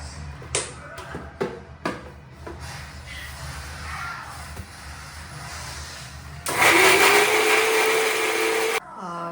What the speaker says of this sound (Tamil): இது வந்து மிக்சியில் போட்டு கிரைண்ட் பண்ண போகிறேன்